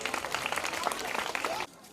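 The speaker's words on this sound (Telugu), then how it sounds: "గురువులమ్మ గారికి గట్టిగా ఒకసారి చప్పట్లు కొడతాం" Brief burst of clapping from an audience at a church Christmas programme, dense and lively, cheering a drama teacher before cutting off abruptly.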